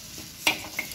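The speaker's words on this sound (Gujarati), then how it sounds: "વેજીટેબલનો વઘાર કરેલો" Vegetables hit a hot spiced tempering on a tawa for pav bhaji, a short close sizzle with a spatula scrape and a light clink of cookware.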